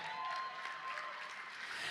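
A church congregation claps during a Spanish-language family worship service, producing a soft, steady wash of applause with a faint sustained tone running beneath it, fairly distant and even.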